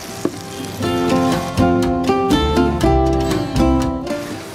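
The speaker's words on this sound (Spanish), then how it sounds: "Vamos acá, un poquito más de aceite y vamos con la cebollita." Chopped onion hits hot oil in a pan still holding chicken drippings, giving a steady close sizzle with scraping stirs and a few clinks of utensils. Pots and the cooking setting also add faint tonal ringing over the frying.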